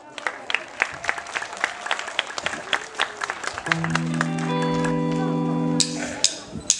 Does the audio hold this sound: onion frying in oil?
no